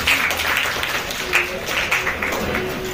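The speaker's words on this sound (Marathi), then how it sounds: "जोरदार टाळ्या वाजवा" A group of school students claps for a classmate's science poster painting, with uneven, fairly loud clapping in rhythmic bursts filling the space.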